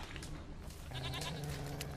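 A goat bleats in The Witcher 3 amid a steady game soundscape, with a louder, sustained bleat in the second half sitting over continuous ambient noise.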